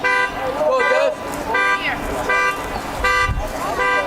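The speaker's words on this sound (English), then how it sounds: "The alarm of a car going off behind us." A car alarm blares somewhere behind the field at a high school baseball game, its rhythmic pulsing tones repeating loudly across the clip alongside a voice talking.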